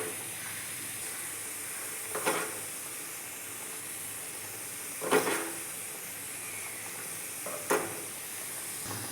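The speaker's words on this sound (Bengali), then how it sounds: "এখন আমি উপর থেকে গরম মশলা আর ঘি দিয়ে দেব।" Garam masala and ghee sizzle on top of chhanar dalna curry in a pan, a steady close frying hiss punctuated by three brief louder bursts of crackling and stirring, with no one talking.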